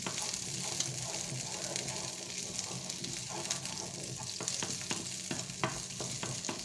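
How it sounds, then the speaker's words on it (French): Beef for boeuf bourguignon browning in a hot pan, a steady close sizzle of frying meat with occasional stirring scrapes, no voices over it. "je mets un peu ma viande à revenir"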